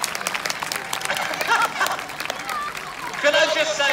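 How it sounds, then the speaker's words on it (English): An outdoor crowd applauds jousting knights at Hever Castle. Steady, fairly close clapping runs throughout, with some cheering and crowd noise mixed in. "A round of applause, ladies and gentlemen,"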